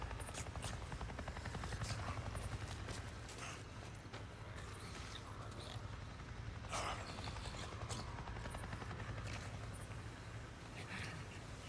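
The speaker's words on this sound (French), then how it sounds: "Je viens de voir un putain d'hélico" Helicopter flying overhead in the video game Days Gone, a loud, continuous rotor chop with a rhythmic beating texture that holds steady throughout.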